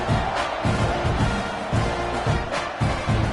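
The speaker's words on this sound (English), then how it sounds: "this crowd is buzzing after that last score" A stadium crowd in College Football 26 roars with steady buzzing cheers, a broad sustained wash of noise at moderate level, with a commentator's voice speaking over it.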